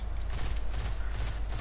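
Rapid gunfire aimed at an ogre in the video game Destiny, a dense burst of overlapping shots in quick succession, loud and continuous over a low rumbling background.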